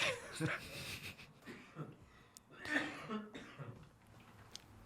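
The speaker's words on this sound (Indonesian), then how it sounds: "saya batuk" A few rough coughs come up close, interspersed with throat clearing and breathy sounds near a voice.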